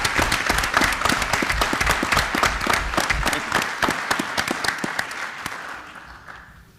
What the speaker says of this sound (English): I'd like to give him a round of applause as well.